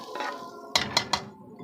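A metal spoon scrapes and clinks against a cooking pan while cleaning it out after tempering masoor dal, giving three distinct sharp clanks over a low background of kitchen rattling.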